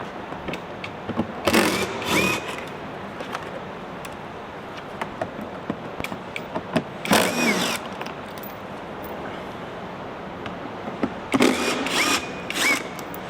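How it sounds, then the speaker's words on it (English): Screws are removed with a power driver while fitting an upgraded speaker in a Tesla Model 3, several short close whirring bursts separated by quieter handling noise. "So I'm going to remove 3 of these screws."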